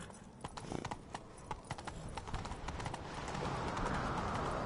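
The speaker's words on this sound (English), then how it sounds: "Grab a horse, we'll chase him down." Rapid hoofbeats of a galloping horse clatter in a steady rhythm, close and clear, blending into a rising rush of noise near the end.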